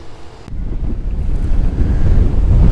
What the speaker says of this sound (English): Wow, that wind is kicking up impressively.